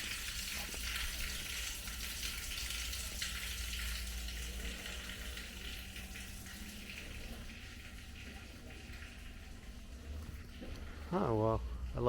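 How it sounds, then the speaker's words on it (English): Water rushes steadily through the sewers beneath a street in Zemun, Belgrade, a constant low-pitched flowing roar heard on a walk, with a brief voice near the end. "You can hear the water through the sewers."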